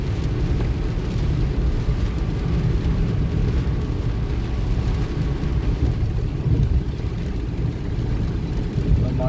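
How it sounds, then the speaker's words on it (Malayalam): Rain drums on a car driving near Kottarakkara, blended with a constant low engine and road rumble in a dense, unbroken wash of noise. "മഴയൊക്കെ കുറച്ച് കുറവായിട്ടുണ്ട് കേട്ടോ."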